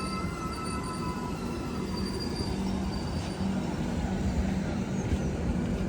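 A Shatabdi train halted at Maralahalli railway station, wheels squealing with thin high whines over a low, steady rumble of rail cars, moderately distant.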